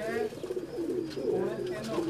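Pigeon with deep purple-red feet cooing nearby in a steady rolling murmur, with a person talking over it the whole time.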